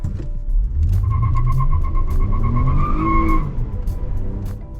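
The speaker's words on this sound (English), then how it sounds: "wheel spin is easily summoned on overly enthusiastic launches" Tires squeal loudly during wheel spin as a heavy, powerful front-wheel-drive 2019 Lexus RX 350 launches hard, a sustained screech lasting a couple of seconds over a deep engine roar, with no talk.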